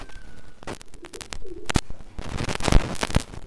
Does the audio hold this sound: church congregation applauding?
no